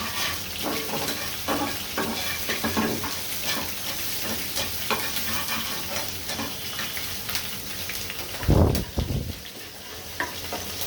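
Onion, garlic and shrimp fry in a pan with a steady, close sizzle and occasional stirring scrapes, plus a louder clattering burst near the end.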